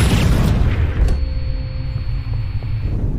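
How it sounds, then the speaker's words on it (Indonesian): A suicide bomb explosion: a deep, heavy boom rolls out into a sustained low rumble, followed by a steady high ringing tone that lingers before cutting off. "mengaktifkan bom bunuh diri untuk meledakkan para zombie"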